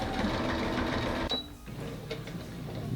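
A sewing machine stitches a fabric dice bag, a dense mechanical whir for just over a second before it stops abruptly, leaving a faint quieter hum.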